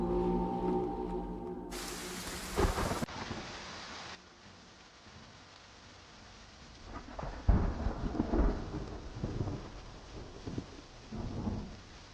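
Rain falling with rolling thunder in an outdoor scene from a Chinese period costume drama, opening with music before steady rain and several loud, low thunder rumbles build and fade, no talking.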